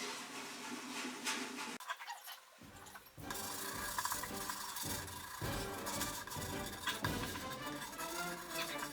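Abrasive rubbing on a violin's thin first varnish coat, a steady close-up rasping scrub with short pauses and changes in stroke, moderately quiet and with no talking.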